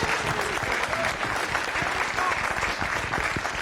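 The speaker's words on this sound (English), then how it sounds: "Let's give Christos Chrisafides a big round of applause." Audience applause for an honoree at a Greek Orthodox Archon gathering, steady dense clapping from a sizable crowd that holds evenly loud for the full few seconds.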